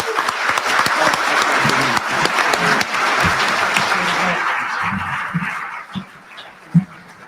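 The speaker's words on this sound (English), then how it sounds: "Please, another round of applause for our panelists." Audience applause for the panelists at an evening information panel dinner, broad, sustained clapping from the room that tapers off, leaving a few scattered claps and stray sounds near the end.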